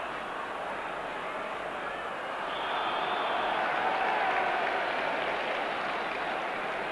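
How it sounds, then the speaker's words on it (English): Broad crowd noise from a large stadium at a 1987-88 FA Cup fifth-round football match, Manchester City v Plymouth Argyle, swells into sarcastic applause at a referee's decision around the middle, then eases back to a steady distant murmur. "some sarcastic applause from Ian Scott for the decision."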